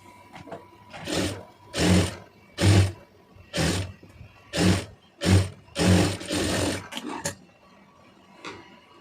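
A sewing machine stitches a saree border onto a puff sleeve, running in a series of short whirring bursts with brief pauses between them, fairly close and clear, then goes quiet near the end.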